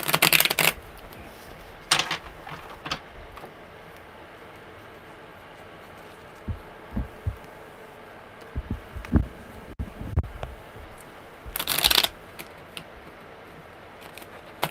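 Tarot cards are handled and shuffled, with a few brief riffling bursts separated by long quiet stretches of soft taps and fumbling.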